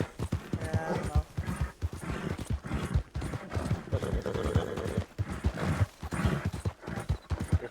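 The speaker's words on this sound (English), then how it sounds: "Your horse sounds tired." Horse hooves clip-clop steadily in a Red Dead roleplay game set around 1902, a close, continuous rhythm of hoofbeats on hard ground with faint speech now and then.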